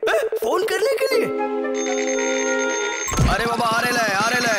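A cartoon telephone rings loudly with a sustained, bright electronic bell tone lasting nearly two seconds, framed by animated character voices talking excitedly before and after it.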